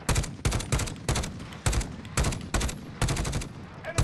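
Rapid bursts of automatic gunfire in the Call of Duty: Warzone video game, loud and close, coming in repeated clusters with brief gaps and no talking.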